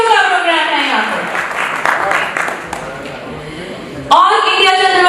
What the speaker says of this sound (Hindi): तो अपने सम्मान में एक बार जोरदार ताली